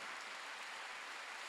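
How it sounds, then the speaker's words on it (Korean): Congregation at a Korean Sunday church service applauds in a steady, dense wash of clapping, fairly faint and distant, with no voices over it. "빨리 박수 주세요."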